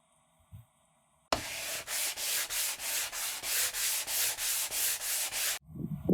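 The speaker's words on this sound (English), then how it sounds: "we're just going to go through and sand it down just like that" Sandpaper scrubs a 240-gallon saltwater aquarium tank in about a dozen steady, even back-and-forth strokes, close and loud, with no talking.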